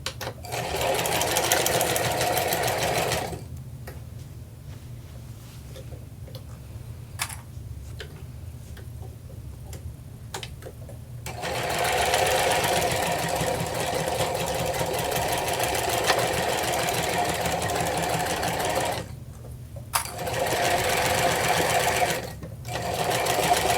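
A sewing machine runs close and loud while stitching the boxed bottom of a quilted cathedral windows tote, with steady fast bursts of stitching broken by quieter pauses and brief stops.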